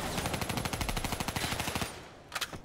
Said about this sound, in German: die schießen und schießen auf die Position